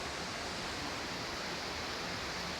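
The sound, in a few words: river water flowing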